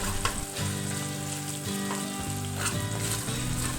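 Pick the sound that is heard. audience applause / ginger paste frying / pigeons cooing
ginger paste frying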